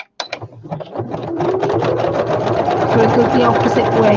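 A sewing machine stitches across journal pages, starting after a brief spoken remark and then running in one continuous, fairly loud mechanical whir to the end.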